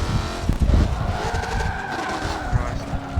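A race car in a racing video game skids out, its engine revving and wavering as tires squeal across the track, with a player talking over the noise.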